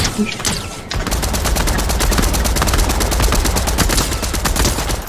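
Rapid, dense gunfire in a Spider-Man video game, a loud continuous burst of shots after a brief opening, close and sustained with no talking.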